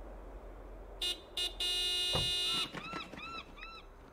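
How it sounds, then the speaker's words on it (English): A car horn in the Broken Sword 5 video game honks in two short blasts, then one long sustained blast, followed by squawking seagull-like calls. "Do me a favor and honk the horn"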